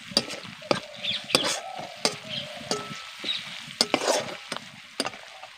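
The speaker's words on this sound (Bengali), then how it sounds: "এবার ভালো করে মিশিয়ে নেব।" Ginger and garlic fry with chopped coriander leaves for an aloo dum, sizzling softly while a spoon stirs and scrapes the pan in repeated sharp knocks, close and alone.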